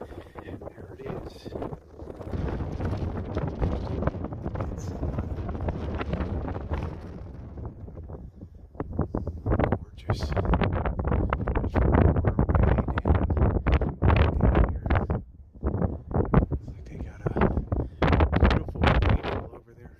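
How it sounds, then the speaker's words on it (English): Heavy wind buffets the microphone outdoors at a scenic lookout in Mexico, a loud, continuous roaring rumble with gusty bursts that swell and surge throughout. "That wind is crazy."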